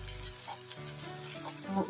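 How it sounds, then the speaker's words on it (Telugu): Small bitter gourd pieces sizzle and fry in a kadai while being stirred, a steady close crackle with soft scraping strokes throughout, no voices. "మనం ఇలాగ కళాయిలో ఫ్రై చేసుకోవాలన్నమాట"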